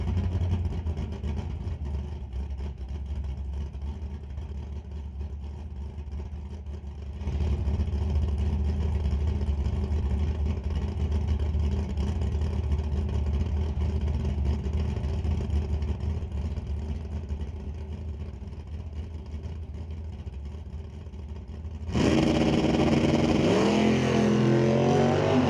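A '96 Camaro drag car launches off the line at Mission Raceway Park, its engine holding a loud steady roar that surges louder partway through, then a harsh rising howl erupts near the end, with no talk.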